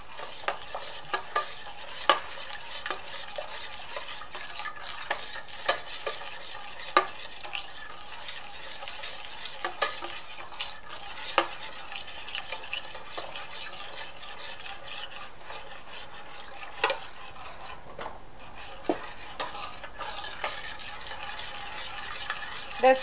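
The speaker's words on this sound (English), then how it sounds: "So you're just going to constantly stir and make sure you keep out the lumps and no burning." A spoon stirs mac and cheese sauce in a pot, producing a continuous soft scraping and rubbing with a faint sizzle, punctuated by frequent light knocks against the pot over a long, steady stretch with no talking.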